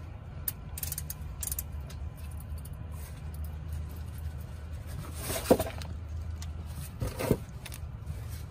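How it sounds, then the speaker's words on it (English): A ratchet works on the transmission drain plug of a Honda Accord, heard as low mechanical creaks and clicks over faint rumble, with a couple of sharper metallic clanks toward the end. "now we're going to open it up and we're going to loosen it"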